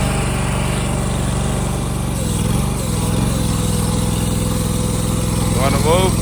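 A Ditch Witch trencher's small gas engine runs steadily at idle after a choke start, a loud continuous drone filling the whole stretch while people talk over it.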